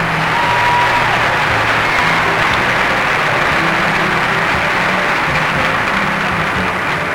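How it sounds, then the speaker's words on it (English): An audience at the 1996 Miss Utah Pageant gives steady, loud applause that holds evenly throughout, with faint voices mixed into the clapping. "I think we all deserve a round of applause."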